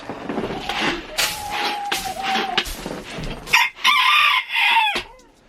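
Chickens cluck and a rooster crows inside a coop on a bitterly cold winter morning, with repeated close, loud calls and squawks filling the clip.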